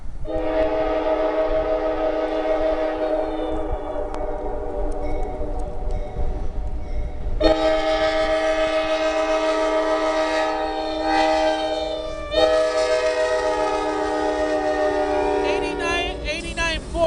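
A Pan Am Railways freight train hauling old Conrail equipment passes at Charlemont in 2013, its horn blowing loud, sustained blasts with a brief break, over a steady rumble of rolling cars.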